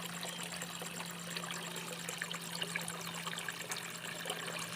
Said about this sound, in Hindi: पानी भर लिया